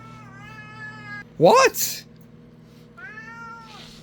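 A house cat meows twice, near and clear, the calls separated by a short burst of a voice asking a question, with a steady low hum beneath throughout.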